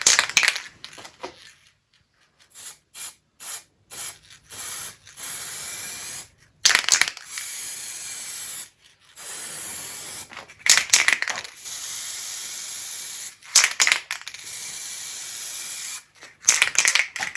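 Spray gold lacquer hisses from a can onto a primed wooden pilaster in a bathroom, coming in several long bursts and short spurts separated by pauses, close and loud, with no talking.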